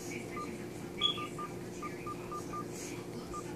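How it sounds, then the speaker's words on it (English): A phone keypad sends a quick series of short DTMF beeps while a Metro PCS number is entered into an automated claims line, each tone faint and evenly spaced over a quiet background. "Starting with the area code, enter your Metro PCS phone number."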